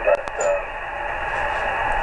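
Shortwave radio signal picked up on an indoor antenna, a faint hissy band of static with muffled broadcast audio underneath and a couple of brief clicks near the start.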